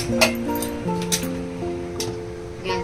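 A metal pressure cooker lid is fitted and locked shut in a home kitchen, giving several sharp clinks and scrapes over a steady tonal background.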